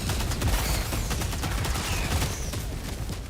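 A heavy barrage of explosions from an orbital strike in Helldivers 2 during a Helldive difficulty 9 mission, rumbling loudly and continuously, with dense blasts and crackling impacts close by throughout.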